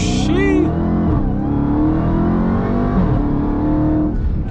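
A 2021 Dodge Charger Redeye Widebody on street tires launches hard, its supercharged engine roaring loud and close with a rising, sustained growl and a faint tire chirp at the start, while a person talks over it.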